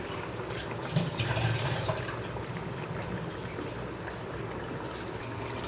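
Doi katla, a fish curry in a yogurt sauce, simmers in a pan with a steady, soft bubbling and sizzling that continues throughout, close and fairly quiet.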